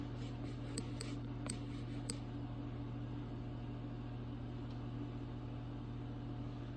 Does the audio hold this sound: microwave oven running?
yes